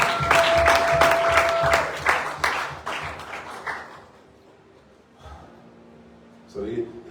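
Church congregation breaks into loud applause and cheers after a scripture reading, the clapping dense for about four seconds, then fading to murmurs with a brief renewed burst near the end.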